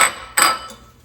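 A spoon stirs pumpkin pie filling with eggs, salt, cinnamon, ginger, cloves, pumpkin spice and sugar in a bowl, giving two sharp, close clanks against the bowl a third of a second apart.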